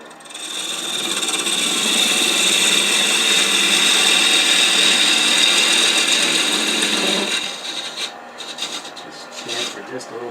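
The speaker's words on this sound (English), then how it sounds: "Take this skew and just bring that down." A skew chisel shears down a wooden scrap spindle on a lathe, giving a loud, steady raspy cutting roar for about seven seconds before it breaks off into quieter, intermittent scraping.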